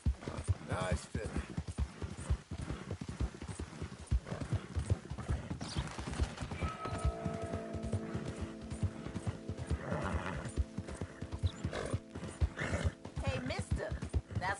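Horse hooves clip-clopping in a steady trotting rhythm in Red Dead Redemption 2, close and continuous, with a whinny partway through and a voice speaking over it.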